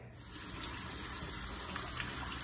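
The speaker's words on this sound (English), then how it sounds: "Now with our black beans, we're gonna wash these." Steady stream of tap water running over canned black beans in a kitchen sink, a continuous close gushing rinse with no speech.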